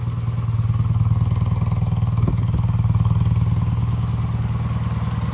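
A BMW Airhead motorcycle's boxer engine, fitted with Bing carburetors, idles with a steady low throbbing putter, loud and close, holding an even rhythm throughout with a brief mechanical clack partway through.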